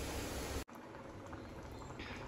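Tadka of salt, chili and spice mix frying in a pan gives a dense, steady hiss and crackle that breaks off briefly, then resumes at an even level with no voices.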